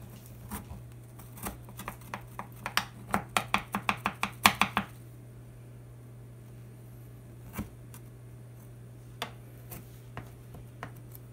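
A knife cuts through a no-bake chocolate lasagna with a run of rapid, rhythmic taps against the board, close and fairly loud, then a few isolated knocks after a pause.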